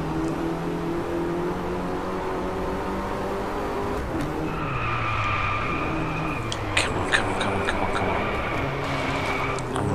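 A race car in DriveClub on PS4 braking hard, its engine note dropping as tyre squeal rises midway, sustained and fairly close under the continuing drone.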